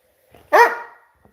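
A single sharp, loud dog bark close by, rising abruptly and fading quickly, in an otherwise quiet setting.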